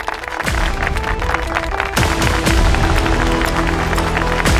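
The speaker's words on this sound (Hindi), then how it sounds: "वरदान इंडस्ट्रीज के फाइनेंशियल एडवाइजर के लिए जोरदार तालियां" Loud applause from an audience as a guest, a financial advisor of Vardaan Industries, is called onto the stage: dense continuous clapping that swells after a brief pause, with crowd noise and some music-like tones underneath.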